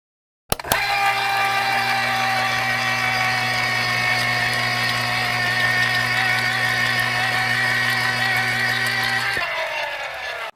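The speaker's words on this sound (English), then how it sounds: "Close the blender lid, secure the body, and press the switch button to start the blender." Kitchen blender whirring steadily as it blends milk and banana into a shake, a loud constant motor hum that starts abruptly and runs for about nine seconds before spinning down.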